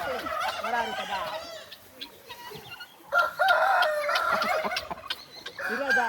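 Roosters at a kori katta cockfight near Mangalore give loud, close fowl calls in short bursts of crowing and harsh clucking, with brief quieter gaps between.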